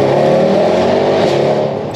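A Mercedes C63 AMG with a D-cut exhaust roars under throttle in a street setting, a loud, dense engine rumble held close for two seconds and easing slightly at the end, with no talking.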